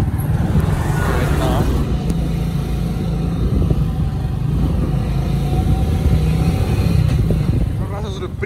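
A motorcycle rides steadily through a town in San Luis Potosí, its constant engine drone and road noise filling the whole stretch, with a person talking over it.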